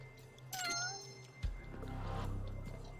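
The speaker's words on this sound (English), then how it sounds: "A cat." A cat in the game Judgment gives a clear rising meow, close and distinct, followed by soft rustling game ambience.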